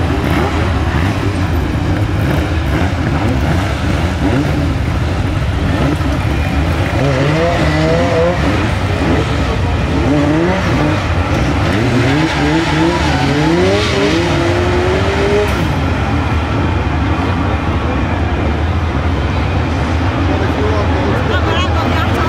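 BriSCA F2 stock cars racing at Hednesford in a world championship qualifying final, with loud, close engines droning and swelling, tyres squealing through the turns and a voice speaking over the racket.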